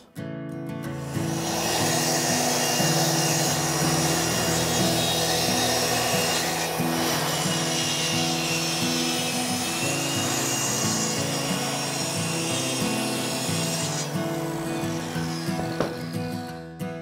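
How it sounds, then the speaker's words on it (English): Saw on a parallel guide track system cutting wood pieces to length: a loud, steady grinding roar that runs almost the whole time, heard up close and alone before it winds down near the end. "Now 3 of these need to be cut down to 23 7/8 in length."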